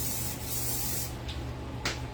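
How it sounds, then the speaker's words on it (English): Cooking spray hissing onto a pan in a home kitchen, two or three short close bursts, the first one longer, with steady background hum and no talk. "I'm gonna spray this pan."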